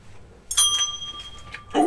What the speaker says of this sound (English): This bell is so much brighter.